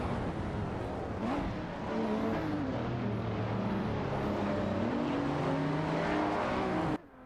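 A Porsche 911 997 Turbo race car in a video game roars steadily with rising and falling engine tones as it shifts through gears, another car's engine audible alongside, loud and continuous until an abrupt cut.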